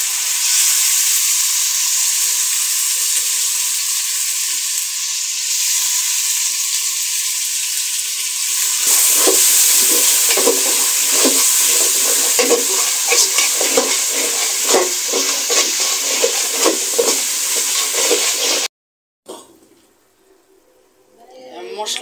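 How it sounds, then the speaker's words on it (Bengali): Spice paste for cow trotter nehari sizzles and fries loudly in a pan after water is added, with a spoon stirring in scraping strokes; the frying steadies, then cuts off briefly before resuming faintly. "মশলাটা আমি কষিয়ে নিলাম।"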